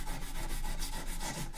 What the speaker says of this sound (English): I get rid of that darn stick and just go to the hand sanding